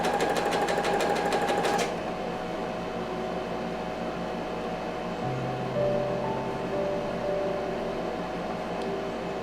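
A sewing machine runs steadily while stitching a seam on a sun hat, a brief louder rattling burst at the start before settling into a continuous, even hum throughout.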